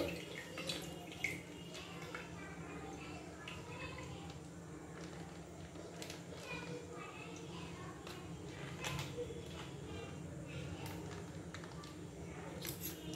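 Milk poured from a packet into a kadai in a home kitchen, a soft, steady liquid pour, faint and continuous, with a voice talking at times.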